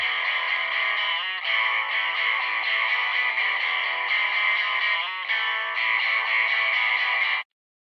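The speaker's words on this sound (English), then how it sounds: "very close to doing the same thing with amp farm attached to it for a little bit of," Guitar run through the Amp Farm amp simulator with a bit crusher, giving a steady, harsh, gritty buzzing tone that holds for about seven seconds with brief dips, then cuts off abruptly; no voices.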